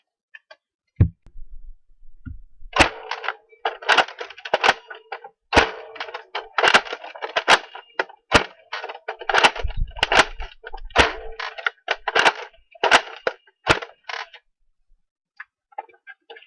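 A Nerf Longshot CS-6 blaster firing streamline darts outdoors produces a rapid run of sharp, dry plastic clicks and snaps. The clicks come in irregular bursts over quiet gaps and are heard close up.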